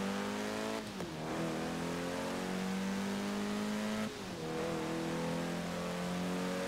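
Car engine in a Forza Horizon battle royale racing game, loud and continuous, with rising revs broken by two quick gear shifts near one and four seconds, and no talk over it.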